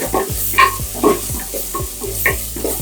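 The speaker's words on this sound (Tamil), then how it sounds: "அதனால கொஞ்சம் எண்ணெயில வதங்கட்டும்." Ground pepper, cumin and fennel powder frying in hot oil while being stirred, giving a steady close sizzle with repeated scraping stir strokes about every half second.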